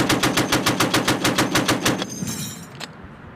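A .50 caliber machine gun fired by Marines in Afghanistan pounds out a long, even burst of about a dozen heavy, booming shots, loud and close, ending with a lone stray report as echoes fade.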